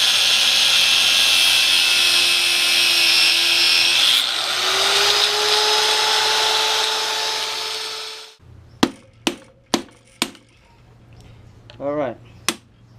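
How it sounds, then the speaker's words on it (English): An angle grinder cuts metal during a Honda wheel bearing replacement, giving a loud, continuous high-pitched whine for about eight seconds that shifts in pitch midway, then stops; a few sharp knocks follow along with brief talk. "I have to cut it with a grinder."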